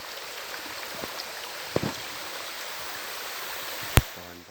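Steady broadband rush of a waterfall on the Melaham river in a forest, continuous and moderately loud, with a few faint clicks and a sharper tap near the end.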